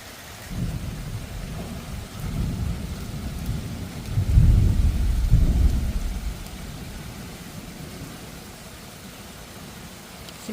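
Steady rain hissing throughout, with deep rolling thunder swelling in the middle and then fading back to rain alone.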